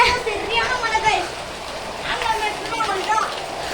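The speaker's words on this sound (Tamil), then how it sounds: "சரியான மழை." Heavy rain pours steadily outdoors, a dense continuous hiss of falling water that fills the scene from start to finish.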